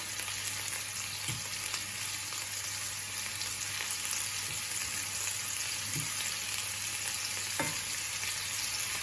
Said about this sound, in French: J'ai mis l'huile de tournesol et je fais un peu griller mes viandes dedans